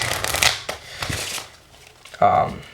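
Two quick bursts of cards being shuffled, a crisp riffle early and another near the end, with a quieter pause between.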